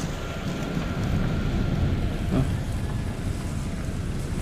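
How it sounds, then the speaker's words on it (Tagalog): Strong wind roars across a mountain top, a steady low rumbling buffet of gusts on the microphone throughout, loud and continuous with no voices. "Dahil yan sa hangin talaga, no?"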